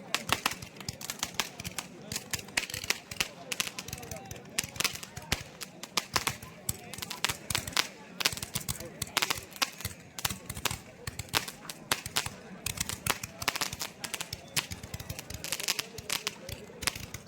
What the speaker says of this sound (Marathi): हे बघा आतिषबाजी होते फटाक्यांची